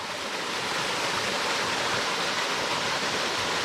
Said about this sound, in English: Nice little cascading waterfall